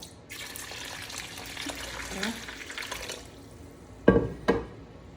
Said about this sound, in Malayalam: അതിൻ്റെ മുകളിലേക്ക് പകുതിയായിട്ട് വെള്ളം വെക്കുക